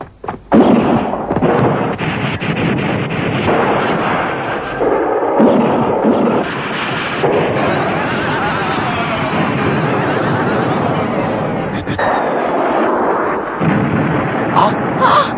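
Shooting and explosions from a battle scene in the Ultraman Ace tokusatsu series, with dense booming blasts and gunfire filling the whole stretch, loud and continuous, while voices shout over the din.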